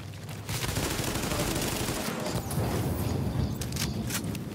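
Dense, continuous bursts of rapid gunfire in the video game The Division, sustained and loud throughout with a few sharper cracks near the end.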